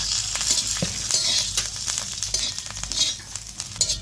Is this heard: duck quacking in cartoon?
no